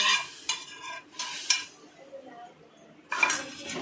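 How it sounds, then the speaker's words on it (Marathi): Ghee-roasted vermicelli hits hot milk for kheer with sharp sizzling bursts, each followed by clinks and scraping as a spoon stirs in a metal pot, close and fairly loud. "शेवई ना भाजून झालेली आपल्याला ना ही अशीच पकडून ना दुधामध्ये टाकायची। बघा कशी आवाज"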